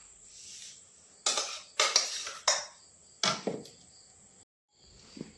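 A spoon scrapes and knocks against a blender jar several times in irregular bursts as cooked ragi is scooped in, close by, with quiet pauses between scoops.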